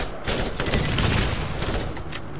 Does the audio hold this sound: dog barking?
no